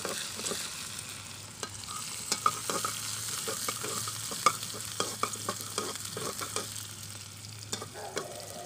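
Garlic mixture being stirred in a frying pan for Himachali taro root kadhi, with steady scraping and clicking strokes over a soft continuous sizzle, close and moderately loud, no talking.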